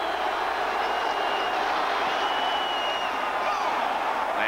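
A packed football crowd in a 1990 Redskins–Eagles wild card playoff game reacts to a short Washington field goal, a sustained, loud crowd roar with whoops, heard alone without talk.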